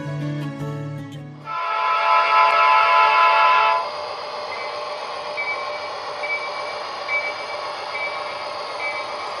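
A Soundtrax Economy sound decoder in a model train locomotive gives a brief tone, then a louder hiss and rumble that settles into a steady idling engine drone with faint ticking, close and alone.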